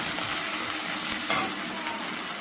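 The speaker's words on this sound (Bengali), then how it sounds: "এখন আমি একটু পেঁয়াজ কুচি আর এটা একটু রসুন কুচি দেবো" Chopped onion and garlic fry in a pan for a banana-blossom and shrimp dish, giving a continuous, even, close-up sizzle with a brief crackle partway through.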